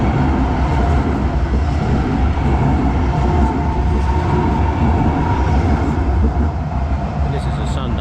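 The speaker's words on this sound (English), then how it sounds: "so the train should be coming this way. Oh yeah, here it comes." A train rumbles past close by, a steady heavy roar with a faint high squeal near the end.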